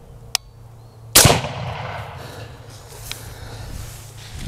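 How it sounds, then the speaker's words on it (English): A .308 Win rifle firing a Barnes 130gr bullet into a block of ballistic gel outdoors: a small sharp click, then one loud close shot with a crack and a rumbling tail that slowly fades. "I'm gonna have to put up another block here, shoot it again to recover the bullet."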